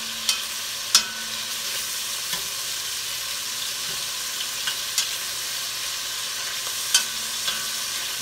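Browned beef stew meat sizzles in a pot with a steady, moderate hiss, while occasional sharp clinks and scrapes mark pieces being turned over, with no talking.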